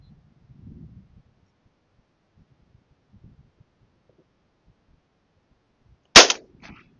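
A single sharp shotgun blast fires during a dove hunt, loud and abrupt against near silence, preceded by faint low murmurs and followed by a brief trailing rattle.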